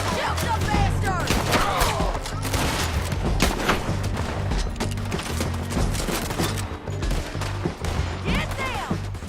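Gunfire in Red Dead Redemption 2 crackles through a chaotic shootout, dense overlapping shots and rapid bursts rattling without pause, loud and close, with voices shouting over the battle.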